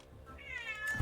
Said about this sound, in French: Désolé si vous entendez des gens crier, c'est un chat.